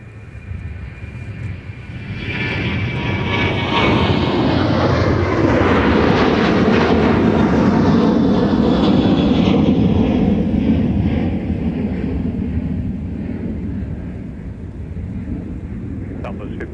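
A Southwest jet airliner departs a runway at MSP airport, its engine roar swelling from a distant rumble into a loud, broad sustained thunder, then fading slowly as it climbs away.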